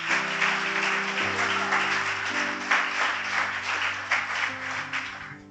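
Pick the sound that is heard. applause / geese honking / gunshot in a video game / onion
applause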